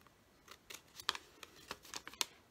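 Scissors snip through material to cut the front piece of a small handmade bag, a series of about ten crisp, close, light cutting clicks spaced irregularly over a quiet background, with no talking.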